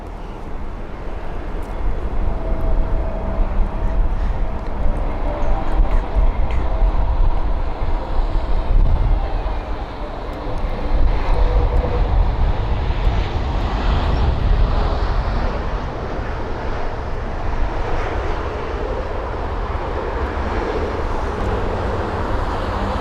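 An Airbus A320neo lands at Heathrow with reverse thrust, heard as a broad, low, steady roar of engine and rushing air from a distance, slowly shifting in level over many seconds, no voices.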